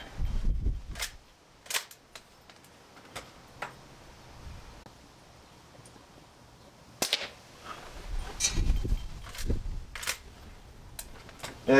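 A Bara 1866 lever-action airgun fires a shot, heard as a few sharp close cracks and clicks separated by quiet pauses, with light handling noise and no talk.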